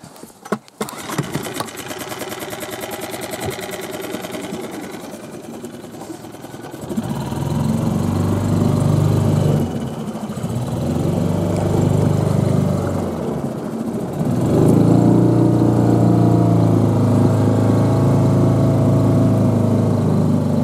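A boat's outboard motor is started partway through, out on a taiga hunting trip. It catches into a loud, steady buzzing drone that runs on close by, with its pitch shifting a little as it settles.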